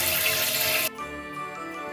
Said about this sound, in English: So I'm going to catch some water first